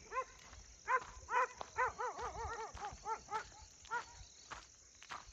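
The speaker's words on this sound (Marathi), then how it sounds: "इकडं कुत्रे पण भुकते बघू शकते" Several dogs bark in the dark at night in a rural farm setting, a run of yelping, fairly distant barks in irregular bursts over a quiet background.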